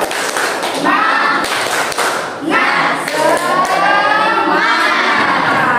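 Schoolchildren in a classroom perform a loud rhythmic 'tepuk semangat' clapping chant, with sharp claps and thumps mixed with excited shouting voices filling the whole stretch.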